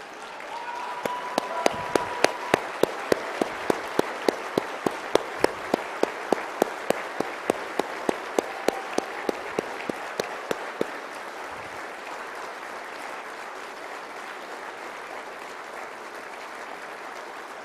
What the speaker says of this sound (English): join me please as we give them a standing ovation